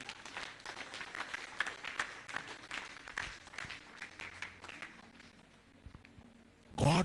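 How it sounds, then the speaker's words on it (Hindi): A church congregation claps in quick, uneven rounds that gradually thin out, then a louder burst of clapping erupts right at the end. "जोरदार ताली बजाओ प्रभु"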